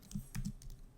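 Quick bursts of keystrokes on a computer keyboard, a few close, clicky taps clustered in about a second of typing with no talk.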